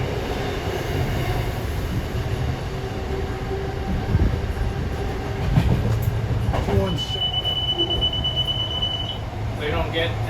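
MBTA commuter train #884 on the Stoughton to Boston run, a steady low rumble of wheels on rails with a brief wheel squeal and a high tone late on, people talking in the cab underneath.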